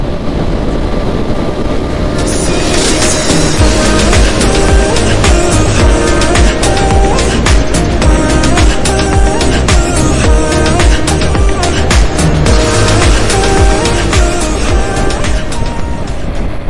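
A motorcycle engine runs steadily while riding at night toward Digha, struggling to pull under load, loud and continuous, with a droning hum and rushing wind noise throughout.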